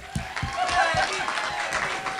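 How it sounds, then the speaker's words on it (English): Audience applause at a convention awards and masquerade event, scattered clapping of moderate loudness with a few distinct nearby claps, under some background voices. "Let's give him a full round of applause."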